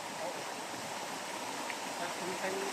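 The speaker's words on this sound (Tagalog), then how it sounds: "Tapos dito sa area na ito, may falls din, oh." Steady rushing water from Naumag Waterfalls in Aguinaldo, Ifugao, a broad constant roar heard up close without a break.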